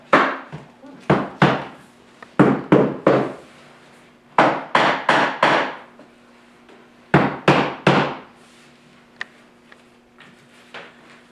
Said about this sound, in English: hammer it in with a rubber mallet